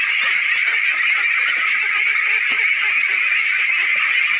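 A flock of ducks on a rural Bangladeshi farm pond eats scattered feed, filling the air with a dense, loud, nonstop chorus of overlapping quacks and honking calls close by.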